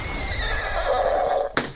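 A horse whinnies in a Borderlands 2 game scene, a drawn-out neigh held for over a second with a sharp brighter burst near the end, sitting over steady game background sound.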